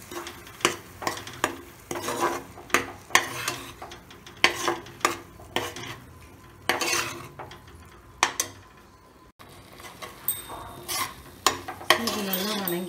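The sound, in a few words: stirring ground paste into mushroom biryani pot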